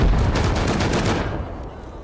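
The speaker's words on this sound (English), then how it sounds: "Oh, that's a turret." An auto turret in the game Rust fires a rapid burst of roughly eight close, loud shots, then the firing trails off into echoing decay.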